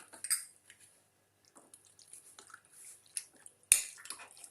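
Curd mixed into a chicken masala marinade with chili powder using a spoon: light clinks and scrapes of metal against a bowl, scattered and soft with quiet gaps, and one sharper clink near the end.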